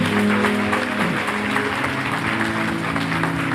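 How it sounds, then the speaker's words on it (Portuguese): A church congregation applauding during a Sunday service, a steady wash of many hands clapping that stays loud throughout over a sustained low musical drone. "Vamos aplaudir o nosso Deus."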